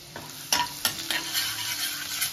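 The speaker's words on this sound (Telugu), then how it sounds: "వెల్లుల్లి అల్లం వేసానండి, సన్న ముక్కలు" Finely chopped garlic and ginger sizzle in hot oil in a pan for chilli chicken, a steady close frying hiss punctuated by several sharp scraping stirs of a spatula against the pan.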